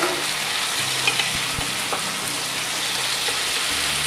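Turnip pieces tossed into a pan of veal sauté with pumpkin, setting off a steady, close sizzle and frying crackle that runs unbroken throughout, with faint stirring clicks and no talk.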